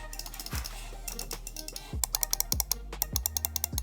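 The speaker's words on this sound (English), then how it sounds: "Razer has equipped this with their Gen 4 optical mouse switches, which this is what it sounds like." Razer Viper V4 Pro gaming mouse with Gen 4 optical switches, clicked repeatedly: sharp, close, crisp clicks at first spaced out, then in quicker bursts, with no talk.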